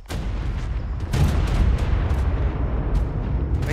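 Explosions from creature attacks in the ARK video game, heavy booming blasts that come in quick succession and stay loud and continuous, with sharp cracks and no talk.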